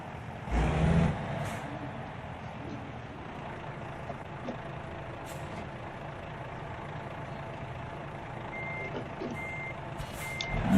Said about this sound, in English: You can also turn off the backup beeper in your options menu when you get into the game.